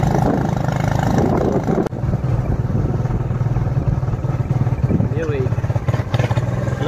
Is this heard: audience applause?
no